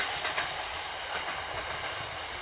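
A Severn Valley Railway train, class 66 locomotive 66 763, rumbles past close by at Westerfield station with a broad, steady roar and rhythmic wheel clatter, no voices.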